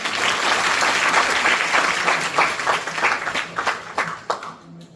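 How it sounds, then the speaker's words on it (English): Audience applause at a Green Building Week celebration, a full room clapping steadily and loudly for several seconds before thinning into a few scattered claps and fading out. "Clap, man."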